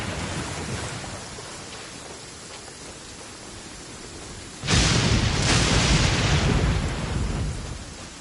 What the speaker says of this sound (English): anticipate a downpour